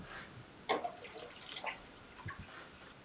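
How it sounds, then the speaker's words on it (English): Water runs into a kitchen sink as cucumbers are rinsed in a colander, faint and close, with a few soft clatters and splashes breaking a low steady trickle. "I'm just gonna go ahead and rinse those in a colander in the sink."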